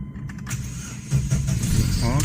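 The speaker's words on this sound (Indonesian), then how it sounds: "kita akan start up dalam keadaan pintu terbuka." A 1997 Opel Blazer SUV with a DOHC engine cranks and starts with the driver's door open, a short starter whir giving way to a steady, fairly loud idle close by, with some faint clicks and a voice early on.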